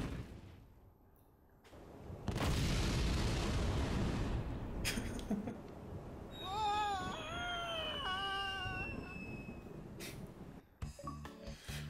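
A love bomb explodes in the Monkey Island 2: LeChuck's Revenge video game, giving a loud booming blast followed by warbling, descending cartoonish tones and scattered clicks, with no talk.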